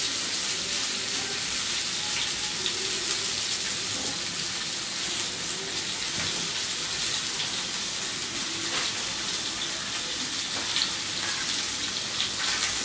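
Cut potato and papaya fry in a pan for a vegetable curry, giving a steady, soft hiss and sizzle that runs unbroken throughout.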